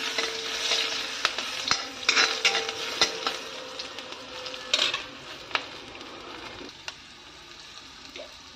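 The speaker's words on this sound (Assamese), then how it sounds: "এতিয়া মই এয়া পিঁয়াজ দি দিম" Onion sizzling as it fries in a pan in a home kitchen, a steady hiss with sharp clinks and scrapes of a spatula stirring throughout, close and with no talking.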